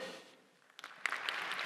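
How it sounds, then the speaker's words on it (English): A small audience gives thin, scattered golf-style applause, a few sparse claps rising into a light patter for under two seconds, with no voices. "give me the worst, measliest, most anemic golf applause you can muster"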